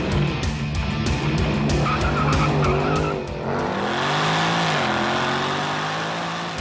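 A BMW M3 slides on a closed-off country road, its tires squealing loudly and continuously over a roaring, revving engine that rises and falls through the slide.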